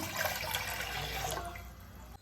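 Water splashes steadily as roughly half a glass is poured into a tea pot for making masala tea, a continuous close pour that tapers off at the end, with no talking.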